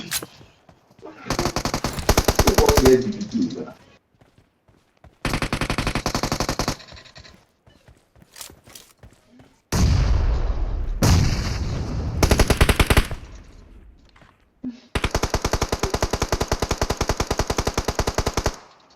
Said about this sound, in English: Oh, they're shooting those guys in their back.